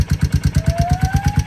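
A Royal Enfield 350cc motorcycle engine chugs with fast, evenly spaced thumping pulses, loud and close over a brief moment, with no voices.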